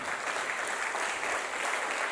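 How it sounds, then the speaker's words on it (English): A crowd at a church-style speaking event claps steadily, a dense continuous wash of applause with no voices rising above it. "Come on, clap your hands real strong"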